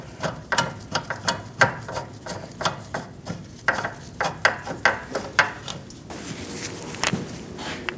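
A hand ratchet tightens the wheel hub bolts on a 2016–2019 Chevrolet Cruze during a rear wheel bearing and hub replacement, making a steady series of sharp, close clicks in quick bursts, followed by a brief rustle near the end.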